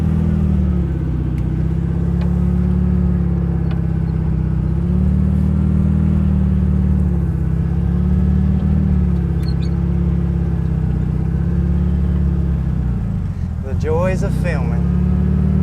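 A 1974 Volkswagen Thing with a swapped engine drives along a road, its engine droning loud and steady with slight shifts in pitch and heavy rumble, wind buffeting near the end, someone speaking briefly over it.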